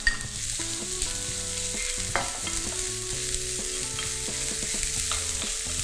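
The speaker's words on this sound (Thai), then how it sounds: "เราจะคั่วพริกกับกระเทียมนะคะให้เหลืองกรอบนะคะ" Red chilies and garlic cloves stir-fry in a little oil, a constant close sizzle broken by spoon scrapes and clicks, with a steady tonal background and no voices.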